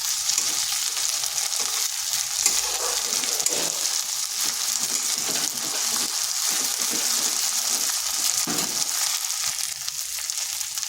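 Ginger garlic paste fries in a pan, giving a continuous, fairly soft sizzle with faint stirring scrapes and no talking.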